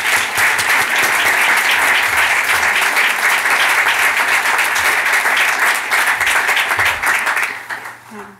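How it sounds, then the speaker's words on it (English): Loud, dense audience applause at a talk on hope, a continuous wash of many hands clapping that holds steady for several seconds before tapering off at the end. "Can we give Banok a huge round of applause?"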